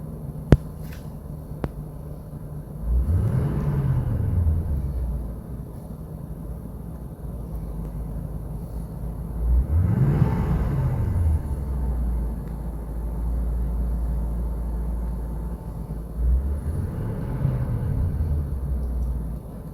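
Car engine idling in a garage during an OBD2 scanner RPM check revs up three times, each swell rising and falling about seven seconds apart, moderately loud with a low rumble between.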